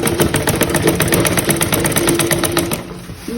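Sewing machine stitching the neckline of a shift dress, a fast, even run of needle strokes close by for about three seconds before slowing to a stop.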